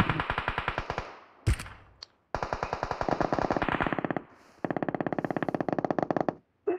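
Rapid automatic gunfire in a team shooter video game, three long bursts of evenly spaced shots with brief pauses between them, loud and close, with a short sharp crack in the first gap.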